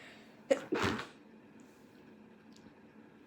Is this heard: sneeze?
yes